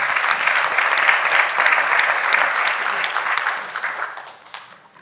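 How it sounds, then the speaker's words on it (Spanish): Audience applause for Ismael at a business and agroindustry forum in Peru, a dense burst of clapping from a sizeable crowd that holds steady, then thins and fades out toward the end. "un fuerte aplauso para Ismael"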